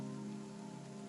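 Steady rain falls in the video game The Rain Garden, a dense continuous patter of drops on a surface, even and soft, with a faint tonal hum beneath and no voices.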